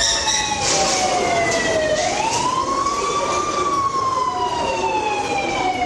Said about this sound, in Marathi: ही सायरन वाजलेला आहे